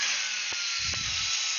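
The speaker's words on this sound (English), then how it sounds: "sorry about the drilling sounds." Power drill running on airplane wing parts in a home aircraft build, a continuous high whine held steady throughout, with a couple of low knocks and some rumbling handling noise partway through.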